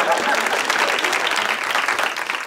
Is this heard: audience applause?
yes